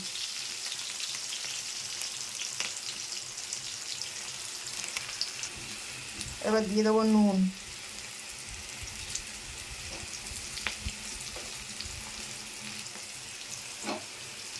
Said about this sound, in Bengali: সবজিটা আমার লাল লাল করে ভাজা হয়ে গেছে